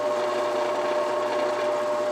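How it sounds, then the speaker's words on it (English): A power drill bores into a Heritage 16-inch rifle barrel, a steady high whine with a constant pitch that runs unbroken and close for the whole moment. "So now that I have my drill bit lined up to where I think it's going to hit center, we'll go ahead and turn it on."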